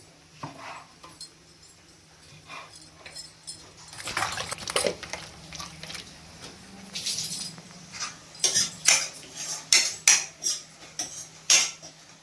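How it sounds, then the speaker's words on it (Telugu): A metal spoon stirs cut pieces with salt and turmeric in a pan, starting quiet, then growing into repeated loud clinks and scrapes against the pan in an uneven rhythm, close by. "ఇలా ఉప్పు వేసి పసుపు వేసిన వాటిల్లో మనం ఇలా కట్ చేసేసుకున్న ముక్కల్ని ఇలా వేసేసుకొని ఎప్పటికప్పుడు కలుపుకోవాలి"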